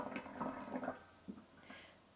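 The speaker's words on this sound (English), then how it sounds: "I'm filling it with boiling hot water." Boiling water poured into a metal Leslie's cube, a hollow container with differently coloured faces, giving a short splashing, gurgling pour with a few louder bursts, close by and alone.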